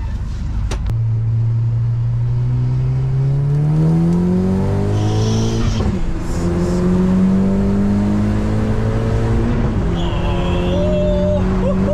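A modified VW Caddy making over 300 hp revs up and accelerates hard, its loud engine note climbing steadily through the gears with brief shift pauses, close and sustained throughout.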